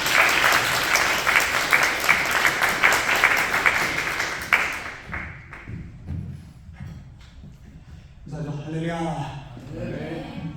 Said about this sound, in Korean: 우리 목사님 나오실 때 박수 한번 보내드릴까요?